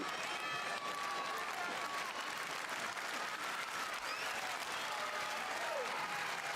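Wrestling crowd at WWE SmackDown in Jacksonville applauding steadily throughout, a dense continuous clatter of clapping with a few scattered shouts and whistles rising above it.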